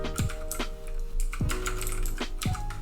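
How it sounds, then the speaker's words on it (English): Close, crisp keystrokes on a computer keyboard typing out text in a graphics editor, arriving in short bursts of rapid clicks separated by brief pauses, with no voices. "press T for a text tool and type out what you want"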